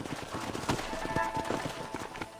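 Horses' hooves clip-clop steadily in the Red Dead Redemption video game as riders approach a canyon fort, a moderately loud, uneven patter of hoofbeats with a faint voice underneath.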